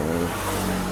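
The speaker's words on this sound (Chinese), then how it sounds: "W126-280SEL 的分油盘完修之后回装的引擎测试" Engine of a Mercedes W126 280SEL running steadily after a fuel distributor rebuild, a loud, close, continuous mid-pitched hum with a steady low rumble and no talk.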